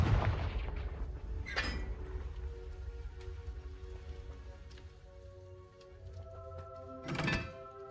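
Confringo fire spells blast in the Hogwarts Legacy video game: two sharp, bright bursts, one early and one near the end, over a steady rumbling backdrop of game ambience.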